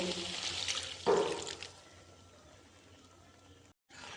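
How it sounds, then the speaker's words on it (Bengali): Water is poured into a pan of potatoes fried in spices, a splashing gush that surges, then settles into a softer trickle and hiss before a brief cut to silence. "এখন আমি পরিমাণ মতো জল দিয়ে আলুটাকে সেদ্ধ হতে দেব।"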